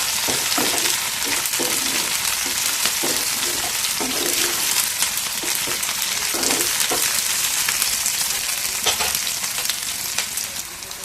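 Food fries hard in a pan over a high flame, with a loud, continuous crackling sizzle and frequent sputtering pops throughout.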